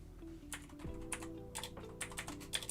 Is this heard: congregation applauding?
no